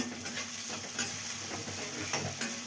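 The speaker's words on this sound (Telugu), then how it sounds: "ఇప్పుడు ఇవి వేయించుకోవాలి. ఇలా వేయించుకోండి." Green chillies frying in the oil tempering for tamarind rice, a close, steady hiss and sizzle with light stirring scrapes layered on top, no voices.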